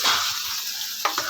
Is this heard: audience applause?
no